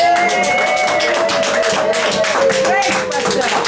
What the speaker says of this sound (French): Applaudissons pour les seigneurs.